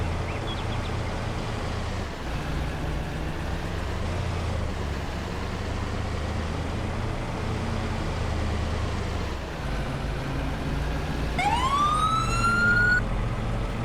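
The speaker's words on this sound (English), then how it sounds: "did not know my car had a siren" A car siren in Farming Simulator 22 wails briefly near the end, a short rising electronic tone over the steady, loud drone of a vehicle engine, with no talking.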